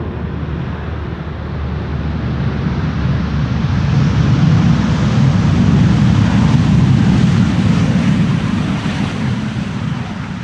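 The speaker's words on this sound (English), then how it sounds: "El in the meantime, flight 337 having arrived from Tel Aviv." An El Al airliner arriving on runway Polderbaan 18R, a broad, steady jet roar swelling gradually and holding loud in the distance, mixed with wind buffeting on the microphone; no voices.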